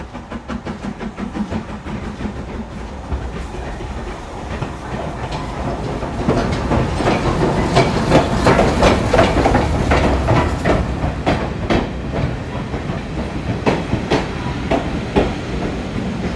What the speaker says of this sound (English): While waiting for the next train.